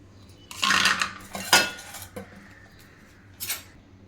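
Metal pots and utensils clatter and clink loudly in bursts as a ground corn mixture is scraped into a cooking pot, with quieter gaps between clanks.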